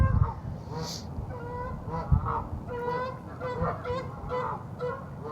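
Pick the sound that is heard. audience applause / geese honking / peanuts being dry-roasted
geese honking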